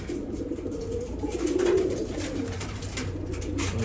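Pigeons cooing in a loft, a steady layered murmur of soft close coos from several birds, with one louder coo standing out midway.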